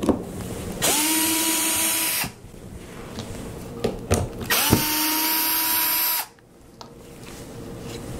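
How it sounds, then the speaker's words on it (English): A power drill backs screws out of a heavy-duty wooden box cover, two separate whirring bursts of a couple of seconds each with a pitch sweep as the motor spins up, close by, separated by handling clatter. "We'll take out these screws and take this cover off."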